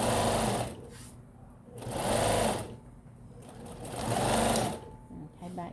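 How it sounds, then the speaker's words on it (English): Sewing machine stitching across a hole in a fabric bag with a short stitch length, running in three steady bursts of loud whirring separated by brief pauses, with no talk over it. "take it back to the machine. And sew across the hole."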